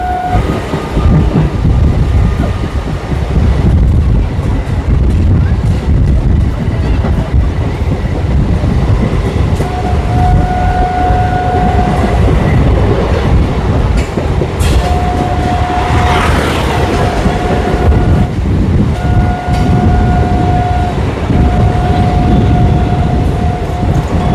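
A train runs steadily along the new Krishnanagar–Amghata rail route, its loud continuous rumble and wheel clatter filling the whole stretch, with a few intermittent squealing tones rising above the roar.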